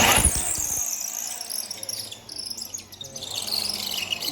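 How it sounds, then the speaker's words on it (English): An electric drill boring through the mouthpiece of a shofar horn, a shrill high-pitched squeal that grinds on steadily with rough, wavering intensity, close by. "puncture through, drill through the mouthpiece"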